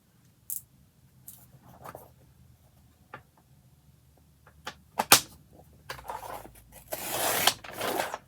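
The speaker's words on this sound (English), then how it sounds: "I want to cut this out." Scissors cutting out paper for a craft project, scattered crisp snips and rustles, with sharper cuts and louder paper crumpling toward the end.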